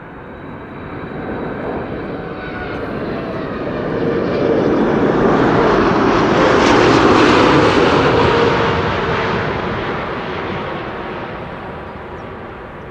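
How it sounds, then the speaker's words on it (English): An airliner lands at Amsterdam Schiphol Airport with idle reverse thrust, a broad, steady roar that swells to a peak midway and then slowly fades, heard from a distance with no voices. "To me it sounds like an idle reverse landing."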